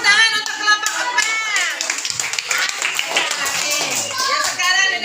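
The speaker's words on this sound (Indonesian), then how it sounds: "tepuk tangan untuk kelompok 4" Schoolchildren in a classroom clap for a student group, scattered hand claps mixed with lively children's voices chattering and calling out over them.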